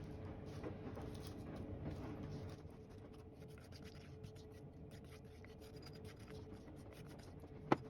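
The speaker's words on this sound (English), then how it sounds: "Let's scrape out all the liquid." A utensil scrapes liquid out of a shallow baking dish of apples for an apple crumble pie, giving a steady close rasping scrape, quiet and continuous, ending in one sharp click.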